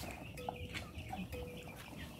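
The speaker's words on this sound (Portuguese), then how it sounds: "Tô filmando as galinhas aqui" Chickens on a farm in the late afternoon, clucking in short repeated bursts over a busy, noisy outdoor background.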